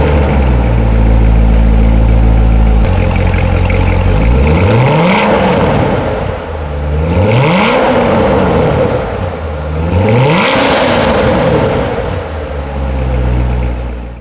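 A 2016 Chevrolet Corvette Stingray engine on a test drive revs and accelerates loudly and close, with three rising-and-falling sweeps after a steady, deep rumble at the start.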